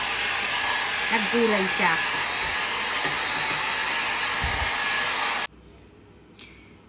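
A hair dryer blows loudly and steadily on freshly washed, newly dyed hair for about five seconds, then cuts off abruptly; someone speaks briefly over the drone.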